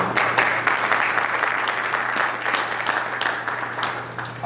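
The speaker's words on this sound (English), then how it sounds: "I really want to give you a round of applause." At a Capitol Hill conference, a room of attendees applauds for Mr. Mesmer, with steady, moderately loud clapping from many hands over a low electrical hum, slowly tapering toward the end.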